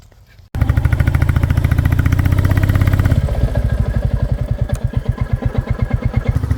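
A motorcycle engine pulses loudly and steadily up close on a misty forest road, with a quick rhythmic beat that eases into a lower, slower chug partway through.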